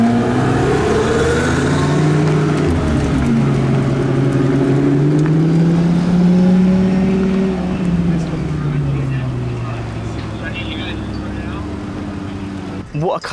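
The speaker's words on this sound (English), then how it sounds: "here we have the Huayra BC startup with their 918" Loud engines of a Pagani Huayra BC and a Porsche 918 with Bowden exhaust idling and revving, pitch rising and falling in long sweeps, up close and dominating, then settling lower near the end.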